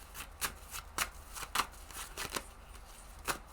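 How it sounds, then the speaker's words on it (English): Tarot cards are shuffled by hand in a series of crisp riffling bursts, about eight quick flicks at an uneven rhythm, close and fairly quiet with no voices. "so I'm gonna pull a card for Monday and Tuesday"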